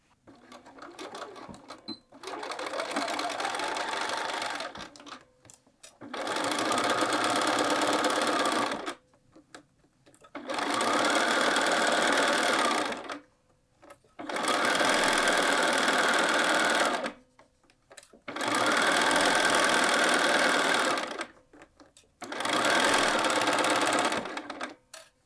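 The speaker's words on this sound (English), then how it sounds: "Now we're going to head over to the machine and we're going to sew across in that first fold ditch" A sewing machine stitching a side seam on a quilted jacket, six separate bursts of steady whirring, each a few seconds long, divided by short silent gaps, close and moderately loud.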